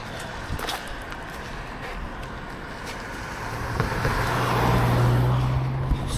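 A car on a road in Cyprus approaches and passes, rising from a steady rumble into a louder engine and tire whoosh near the end, with wind noise throughout.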